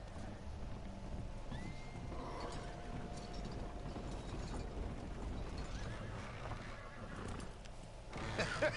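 A horse whinnies and its hooves clop in Red Dead Redemption 2, set against mechanical clanking and ambient game noise, with no talk over it.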